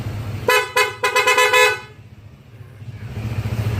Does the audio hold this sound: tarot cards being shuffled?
no